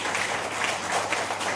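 An audience at a book launch event claps in a dense, even patter of applause, filling the short stretch without a break.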